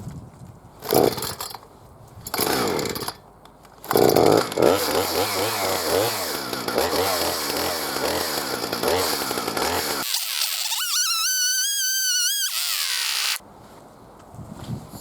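A chainsaw bites into a red oak trunk during tree removal on an excavation job, its engine loud and close with bursts of revving, a long steady cutting drone, then a high whining rev near the end before idling.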